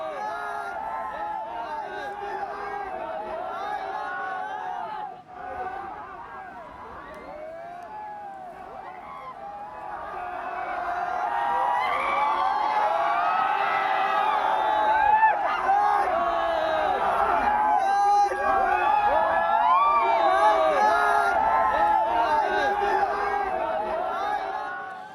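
A large crowd of fans outside Amitabh Bachchan's Jalsa bungalow cheers and shouts excitedly, a dense roar of overlapping voices that swells louder midway and stays sustained to the end.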